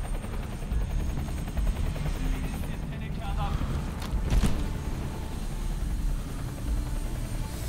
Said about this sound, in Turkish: Kesin kaza yapar helikopter ha.